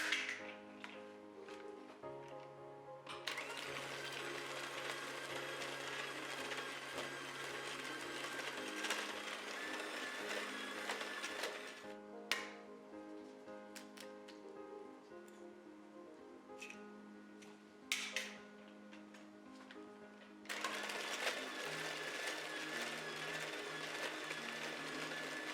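An electric mixer beats eggs, added one at a time, into chocolate drop cookie dough. It whirs in long stretches with short pauses between, over faint background music.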